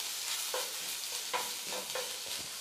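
Ginger garlic paste stirred in a pan with a spoon, giving soft scraping strokes in a loose rhythm over a quiet hiss of oil, close and with no voices.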